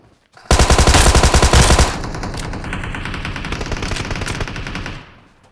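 Rapid automatic gunfire rattles loudly in a video game, a fast burst of shots followed by a few more seconds of continuous firing and combat noise that then fades out.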